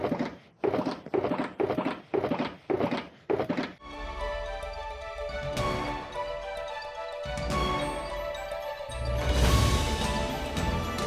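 A run of seven sharp, hollow thunks of shulker boxes opening in quick rhythm, then a dense, sustained clatter of blocky game sounds layered on top of each other.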